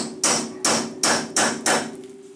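Five sharp, ringing hammer blows on a chisel, evenly spaced and close, splitting the ball joint pinch on a GMC Envoy/Trailblazer upper ball joint, each strike decaying before the next.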